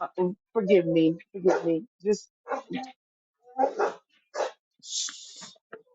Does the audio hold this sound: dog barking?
yes